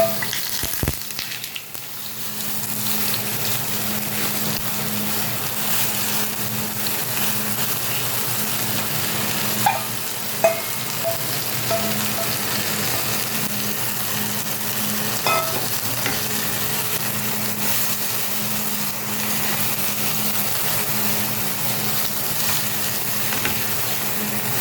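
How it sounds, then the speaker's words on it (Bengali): Okra paste sizzles steadily as it is stirred in a hot pan with already-fried dried red chillies, making a continuous dense crackle with faint scraping and occasional soft clicks of the utensil, close and alone. "এবার এর মধ্যে দিয়ে দিচ্ছি এই ঢেঁড়সের পেস্টটা।"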